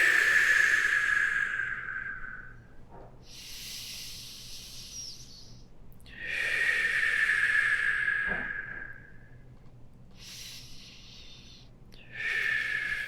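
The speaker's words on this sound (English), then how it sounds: "Deepen your breath." Slow, deep yoga breaths during a practice session: long airy inhales and exhales in a calm rhythm, each lasting a few seconds with short gaps, close and fairly soft over a quiet room.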